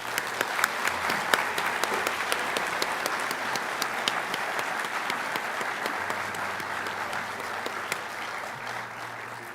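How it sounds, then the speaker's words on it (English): An audience at a nursing school pinning ceremony applauds its students with moderate, steady clapping that has a few sharper claps standing out, tapering slightly toward the end. "how about a nice round of applause for our students?"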